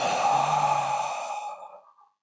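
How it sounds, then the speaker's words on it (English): One long, deep breath let out slowly near the listener in a quiet room during a guided relaxation exercise, loud at first and then fading away into silence. "We're going to take a deep breath in and let it out."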